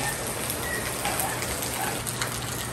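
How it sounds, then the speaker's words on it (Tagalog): Heavy rain pours steadily in Mindanao, a dense, even hiss of water with drops drumming on surfaces, loud and continuous throughout with no breaks. "Pero grabe na yung ulan din dito at umuulan na ulit."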